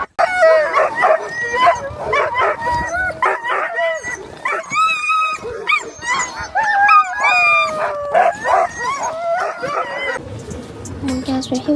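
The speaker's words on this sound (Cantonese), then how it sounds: "每架雪橇車會有6隻狗仔拉住" Sled dogs at a kennel in Yellowknife, Canada, bark, yip and howl loudly in overlapping bursts, a whole pack calling close by in extreme cold.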